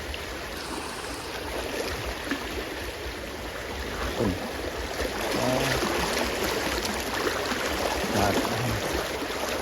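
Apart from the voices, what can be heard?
floodwater flowing across a washed-out road in Laos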